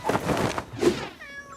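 Cartoon kittens give a few quick, close meows, one overlapping the next, then a brief high, bright tone rings out as the cries fade.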